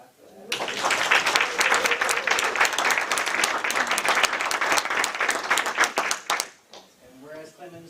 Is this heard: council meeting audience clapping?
yes